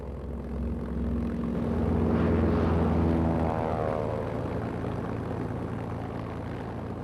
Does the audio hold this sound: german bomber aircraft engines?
yes